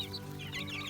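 Small Hampshire and Orpington chicks cluck and peep softly close by in a chicken tractor, a brief cluster of quiet chirpy calls over a low hum.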